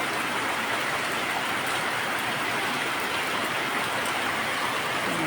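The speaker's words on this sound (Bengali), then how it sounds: "একেবারে বৃষ্টি হইতে আছে" Heavy rain pours down in flood-hit Noakhali, a dense, steady roar of downpour that holds at one level throughout, with no voices.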